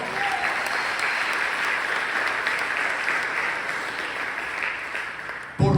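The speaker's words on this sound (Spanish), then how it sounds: "Dale un aplauso al Señor" A church congregation in San Salvador applauds, a long even roar of clapping from many worshippers that holds steady before cutting off abruptly.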